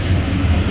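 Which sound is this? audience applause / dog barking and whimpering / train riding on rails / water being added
train riding on rails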